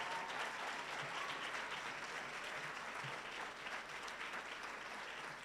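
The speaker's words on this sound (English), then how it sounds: "Please give them a round of applause." An audience at a school program launch in Rwanda gives steady, distant applause that sounds soft and even from start to finish.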